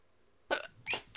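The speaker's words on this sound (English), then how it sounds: "Stop hiccuping!" Two sharp hiccups in quick succession, followed by the start of a third, close and fairly loud against a quiet background.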